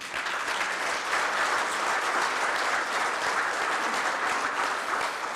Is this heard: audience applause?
yes